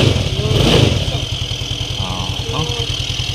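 A SkyDrive Sport motorcycle engine with a charging system problem idles steadily with a regular low throb, close and continuous, while a person talks briefly over it.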